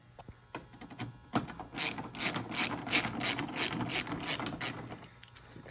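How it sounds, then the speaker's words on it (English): A hand ratchet with a T30 bit backs out a rear door handle screw on a Chevy Silverado or GMC Sierra truck, giving a quick series of close, crisp clicking bursts after a few isolated taps. "take my T30 bit. There's one at the top here, one at the bottom here. And we're just gonna unscrew it."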